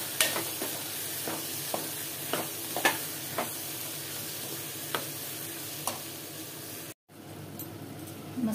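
Spice masala with coriander powder is stirred in a frying pan, giving a steady hot sizzle and hiss punctuated by about ten soft scrapes of the spoon, close and continuous, with no talking.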